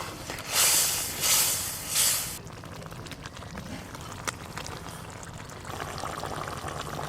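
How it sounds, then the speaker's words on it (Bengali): Gravy boils and sizzles steadily in a pan as pieces of fried fish go in, opening with a few loud hissing surges before settling into a softer, continuous bubbling close by. "গ্রেভি তো বেশ ভালো করে ফুটে গেল, ভেজে রাখা সব মাছগুলো দিয়ে দেব।"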